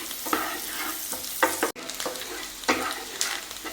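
About 1.5 spoons of garlic frying in melted butter, a close, crackling sizzle with several spoon scrapes and one brief break midway, no talking over it.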